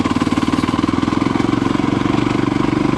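A Voge 300 Rally motorcycle engine labours up a mountain in third gear at low speed, a loud, close, steady pulsing thrum with a throbbing low rumble and no pauses.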